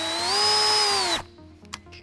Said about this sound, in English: let's start by drilling the 4mm pilot hole